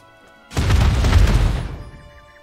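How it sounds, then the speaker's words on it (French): A fuel depot blows up in the video game Pathway: one loud, deep boom bursts in suddenly and rumbles on for about two seconds before fading, with nothing else heard. "suivie d'une explosion assourdissante"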